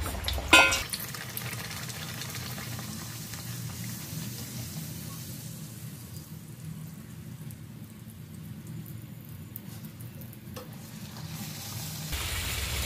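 Khar puri frying in hot oil, a steady crackling sizzle that runs at an even level throughout, close but fairly quiet, with a sharper splash near the start as the dough goes in.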